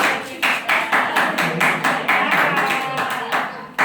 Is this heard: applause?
yes